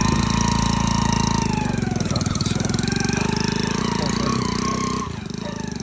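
A motorbike engine runs steadily at close range, a loud throbbing idle that dips slightly near the end.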